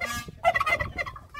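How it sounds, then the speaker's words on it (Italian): A turkey gobbles in a loud, rapid burst of warbling calls, starting after a short pause and trailing off, heard up close and alone with no talking. "Il glu glu, che è il tacchino, Turkey."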